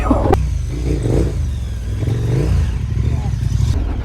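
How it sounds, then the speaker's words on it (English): A heavy KTM 1290 Super Adventure motorcycle working along a tight mountain-bike single track around a sharp turn, its engine rumbling and revving unevenly, with rattles and clatter over rough ground. "Really having a lot of fun with this heavy bike."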